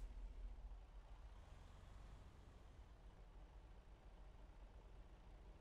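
A big rig in American Truck Simulator hauling a load of hay, its engine droning low and steady with continuous road rumble, loud and close, with no voices.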